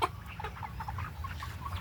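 Farm chickens, including roosters with trimmed beaks, cluck in short, quick bursts close by in a yard, a busy scatter of calls over a low background hum.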